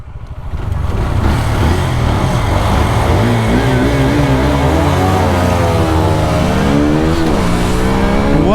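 Pulsar NS 160 and Apache RTR 160 motorcycles launch in a drag race, engines roaring loudly and continuously as they rev up through rising gears, close and dominant throughout.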